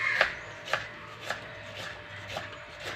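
Onion sliced with a knife on a board, six crisp, evenly spaced cuts about half a second apart, close and fairly quiet with no talk.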